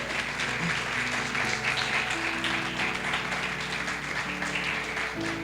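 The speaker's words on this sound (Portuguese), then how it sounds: "Você pode aplaudir o Senhor, queridos?" A church congregation applauding during a worship service, a sustained, moderately loud wash of clapping heard over a low instrumental backdrop.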